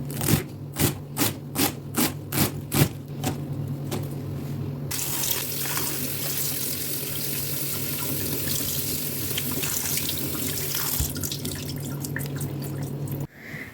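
Cold tap water runs over finely chopped coriander in a kitchen sink. Several sharp knocks and drips come first, then a steady close stream of splashing water that continues for about ten seconds before cutting off.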